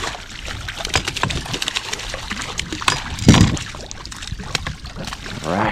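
Catfish splash and thrash in the water beside a drifting fishing boat on Pymatuning, with irregular nearby sloshes, a few louder splashes and a trickling, dripping background.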